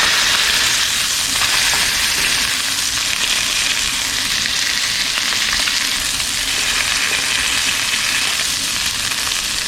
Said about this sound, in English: So I'm just going to kind of help it out a little bit to try to get a little bit of sear on the other side.